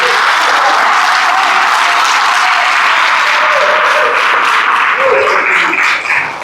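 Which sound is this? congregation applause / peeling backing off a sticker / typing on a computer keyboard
congregation applause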